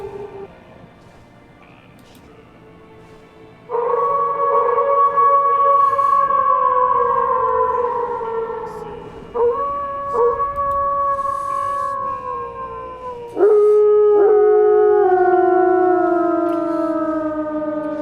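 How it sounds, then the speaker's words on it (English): A synthetic howling alert sound from a livestream plays loud and alone, long wavering wolf-like howls that slide downward in pitch, three overlapping waves in succession. "Ignore all the howling"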